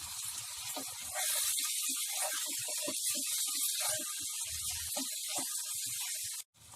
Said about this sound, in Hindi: फ्लेम को हाई पे रख के गोश्त को अच्छे से भून लें